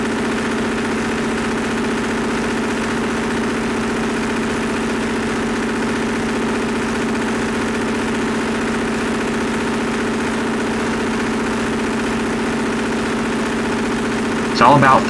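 A Perkins diesel generator idles with a steady, droning hum after its governor gain is turned down, running smooth and even for the whole stretch, with a brief louder burst at the very end.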